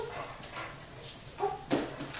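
A dog gives a few short, soft yips and whimpers against faint indoor background noise, the small cries close but not loud.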